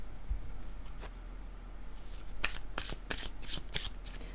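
Playing cards are shuffled and drawn at a tarot-style reading, with crisp riffling bursts and quick snapping flicks in close, loud sequence and no talk.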